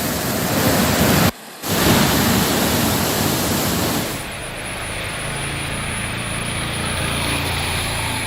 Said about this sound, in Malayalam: വിലങ്ങാട് പുഴയിൽ മലവെള്ളപ്പാച്ചിലിനെ തുടർന്ന് പാലത്തിൽ വെള്ളം കയറി